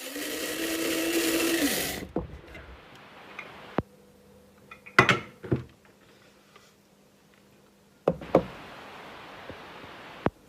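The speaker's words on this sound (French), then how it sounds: "Et je prends du riz. Et je vais le écraser dans le moulin à café." A coffee grinder whirs loudly for about two seconds as it turns rice into flour, then stops, followed by a few sharp knocks and taps as the grinder is handled.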